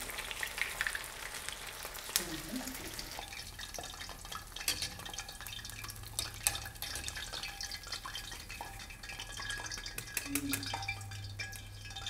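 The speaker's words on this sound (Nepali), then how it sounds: "म यो डिप फ्राई गर्दैछु हेर्नुहोस्" Potato pieces deep frying in hot oil, a continuous bubbling sizzle at moderate distance with occasional clinks and faint background voices.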